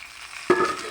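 Mung dal and rice tipped into a hot pan with spices burst into a sudden close sizzle and crackle after a quiet moment.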